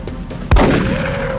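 A single sharp gunshot in XCOM: Enemy Within rings out midway, loud and close, after a quiet background, then a ringing tail fades out.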